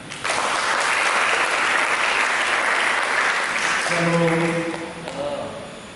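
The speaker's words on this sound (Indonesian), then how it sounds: "Mari kita berikan tepuk tangan." Church congregation applauding during a sermon, a loud, steady wash of clapping that swells and holds for several seconds, with brief voices emerging near the end.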